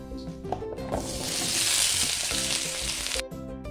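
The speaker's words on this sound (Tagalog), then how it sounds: "Ang una kong gagawin ay lulutuin ko muna ang carrots at patatas." Carrots and potatoes frying in a pan for egg curry give a steady, loud sizzle that swells and holds, framed by a few stirring clatters near the start and end, with no one talking.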